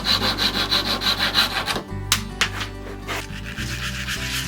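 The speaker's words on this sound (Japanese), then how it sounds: "断面をサンドペーパーで削って少しだけ角に面取りをつけておきます。" Sandpaper rubbed over the freshly cut end of a 10 mm wooden round rod to chamfer its edge, in quick rhythmic back-and-forth strokes at first, then a few separate scrapes, close and clear.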